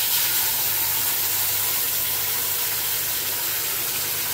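Onion and garlic paste hits a hot wok (kadai) with a steady, broad hissing sizzle that stays loud and even throughout, with no talking.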